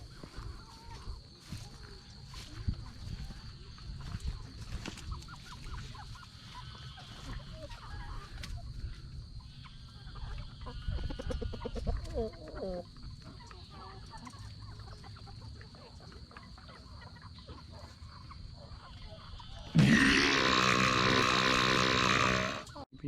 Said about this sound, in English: some of the chickens are going in for the evening.